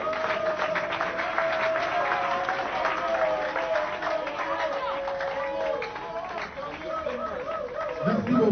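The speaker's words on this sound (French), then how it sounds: "Tout le monde applaudissement, bien sûr." An audience claps through a crowd event, a broad steady wash of applause with overlapping chatter and voices on top, ebbing slightly near the end.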